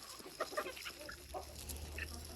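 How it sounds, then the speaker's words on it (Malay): Farm chickens clucking softly during feeding, several short murmuring clucks and calls scattered over a quiet background, fairly faint and close. "Lepas tu bagi ayam selama ni makan."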